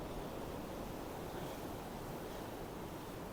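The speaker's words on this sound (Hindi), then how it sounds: "इनसे पानी जब टकरा के आ रहा है ना, तो यहाँ का शोर बहुत ज्यादा है।" Fast river water roars against large rocks, a dense, steady, broadband rush that fills the whole stretch without pause.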